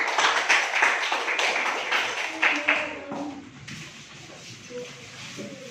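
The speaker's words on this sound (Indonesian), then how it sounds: "Beri tepuk tangan untuk kelompok 1." Classroom applause for a student group after their presentation, a burst of clapping in the first three seconds that fades into a few scattered claps, with voices chattering and a short tonal sound underneath.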